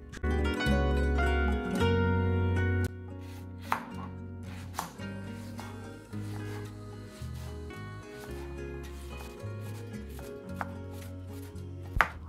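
A knife chops an onion on a home kitchen board in steady, repeated strokes, partly buried under loud sustained tonal background music.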